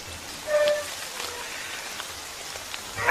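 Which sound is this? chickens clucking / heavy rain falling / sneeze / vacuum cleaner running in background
heavy rain falling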